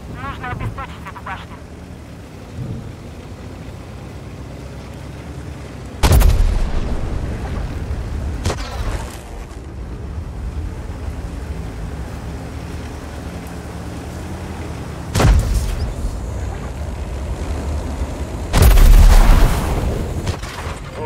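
Three heavy, booming tank cannon shots ring out in a Waffenträger tank battle game, spaced several seconds apart, each a sharp loud blast over steady engine and battlefield rumble, with voices heard at times.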